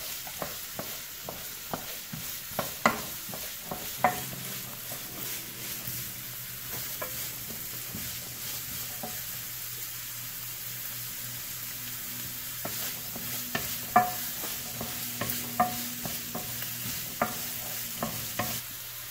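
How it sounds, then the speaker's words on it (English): Carrots and beans sautéing in a pan for egg fried rice: a steady soft sizzle runs throughout, broken by frequent sharp spatula scrapes and taps against the pan, near and moderately loud. "Saute well. Saute really well till it's golden brown."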